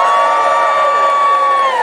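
Closing ceremony crowd at the Minamicon 28 convention cheers loudly and all at once, a sustained roar of many voices with a held high whoop on top.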